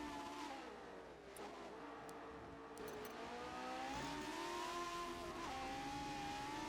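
Race car engines in a 1960s Grand Prix racing video game at Spa, with a lightweight Ferrari among the field; a steady, faint engine drone with rising and falling revs running throughout, no voices.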